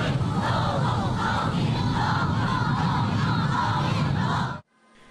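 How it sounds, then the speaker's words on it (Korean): Large street crowd in Pyongyang cheering loudly as a motorcade passes, with citizens waving flags and pompoms; a dense, continuous roar of many voices that cuts off abruptly near the end. "꽃술을 흔들며 환호합니다"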